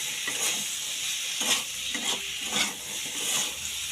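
Spices, including chili powder and turmeric, fry in oil in a pan while being stirred, giving a steady close sizzle broken by repeated scraping strokes of a spoon roughly every half second.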